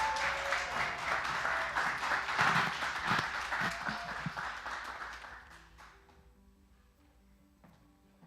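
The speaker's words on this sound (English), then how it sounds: "Let me hear that applause." Applause at the Miss Face of Humanity 2023 press conference welcoming a speaker: a modest crowd clapping steadily, with a few sharp nearby claps, fading out after about five seconds into a quiet room.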